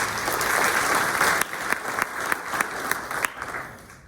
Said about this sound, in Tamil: இன்னைக்கு இந்த டாபிக் ஒரு ஆப்பர்ச்சுனிட்டி கொடுத்த ஆர்கனைசர்ஸ்க்கு ஒரு கைத்தட்டி